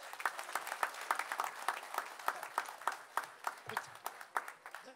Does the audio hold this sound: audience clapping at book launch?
yes